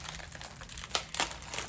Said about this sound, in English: you can put these graham crackers